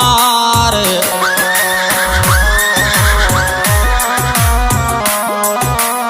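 A horse whinnies repeatedly as a sound effect inside a loud devotional song, the rising neighs surfacing over steady music with driving percussion hits throughout.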